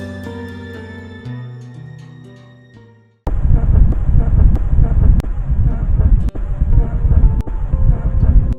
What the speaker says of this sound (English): The day was a little bit windy, but not really bad.